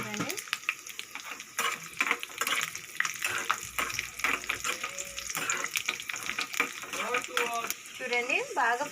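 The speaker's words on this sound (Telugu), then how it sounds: "బాగా ఫ్రై చేసుకున్నాము నెయ్యిలోకి" Cashews and raisins fry in hot ghee with a steady crackling sizzle, broken by scraping stirs of a spoon in the pan, while a voice talks over the cooking.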